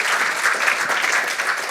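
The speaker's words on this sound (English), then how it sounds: "Let's give a round of applause." A brief burst of steady audience clapping at the close of a business talk, dense and even with no voices over it.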